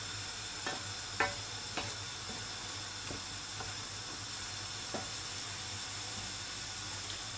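Broccoli and mushroom soup stirred in a pan in an Indian-style kitchen, with faint, scattered scraping taps of a spoon against the pan over a soft, steady background hum.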